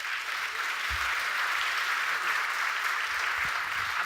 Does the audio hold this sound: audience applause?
yes